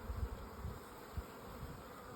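Honeybees buzz softly around an opened hive that is requeening, a faint continuous hum with a few brief louder passes close by.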